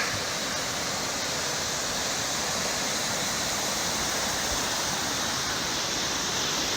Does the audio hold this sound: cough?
no